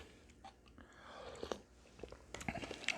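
Someone chewing a mouthful of sundae gukbap, Korean blood sausage soup, with soft close-up wet chewing and a few crisp bites and slurps across a few seconds, no talking.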